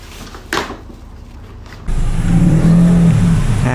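A car engine starts up and revs, a steady loud low rumble that rises and holds after a sharp clunk, alone with no talking.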